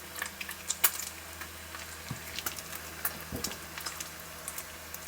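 Bacon and thick slices of black pudding fry in a pan, a soft continuous sizzle with scattered small pops and a couple of louder clatters of the pan being shaken.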